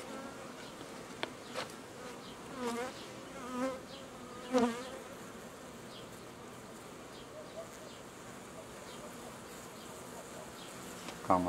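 Honey bees buzzing around a hive being treated with Ecostop strips, a steady drone with individual bees passing close in brief louder swells, no talk.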